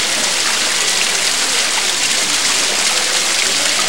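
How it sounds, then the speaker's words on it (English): A small waterfall beside a scenic railway in Australia pours with a steady, dense rushing hiss, close and loud, unbroken throughout with no voices. "A little waterfall here."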